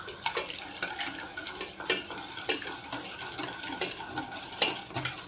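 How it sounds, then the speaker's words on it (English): A whisk beats bechamel sauce in a pan, with a rhythmic series of sharp metallic taps and scrapes repeating about every half second over a soft background hiss. "I'll take it back to the pan and I'll give it a whisk"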